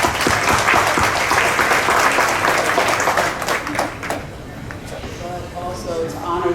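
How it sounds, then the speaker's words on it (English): A crowd at a community heritage foundation honors event applauds the honorees, dense sustained clapping that slowly thins out toward the end as a voice begins speaking. "I want to give one last round of applause to all our honorees"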